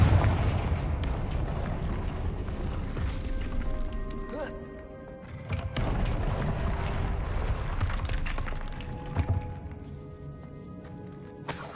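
A Confringo fire spell in Hogwarts Legacy goes off in a loud burst, with further blasts and booms over a clattering game soundscape, then a second flurry of impacts, amid a voice casting spells.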